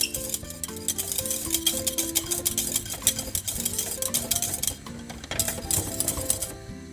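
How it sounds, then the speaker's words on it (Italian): A Neapolitan migliaccio mixture being stirred in a pot over a lit flame, with a steady scraping, clattering utensil rhythm against the pot and soft background music throughout. "Giriamo finché il tutto non diventa ben solido, sempre a fiamma accesa."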